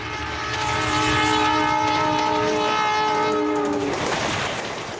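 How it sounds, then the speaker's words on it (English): Super-fast express train in India on the rails, with a loud, steady roar of wheels and a long multi-tone horn blast that sounds for several seconds, then cuts off as the rumble carries on. "the super-fast express trains command the rails"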